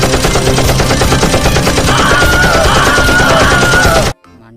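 A toy M4 gun fires a rapid, loud electronic burst of machine-gun sound effects that rattles on continuously for about four seconds, then cuts off abruptly.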